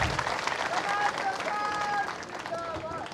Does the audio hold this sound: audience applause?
yes